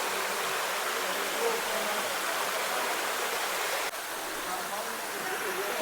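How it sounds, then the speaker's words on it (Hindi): A mountain stream at Pandupol runs continuously, giving a steady, loud broadband rush of flowing water with no pauses. "धारा यहाँ से लगातार अविरल रूप से बह रही है"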